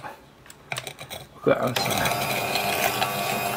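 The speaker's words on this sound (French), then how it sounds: "avec un petit batteur, je vais mousser tout ça" A small electric hand mixer whisks egg yolks and sugar in a bowl for ladyfinger biscuits. After a few quiet knocks it starts up and runs as a steady, close, whirring buzz to the end.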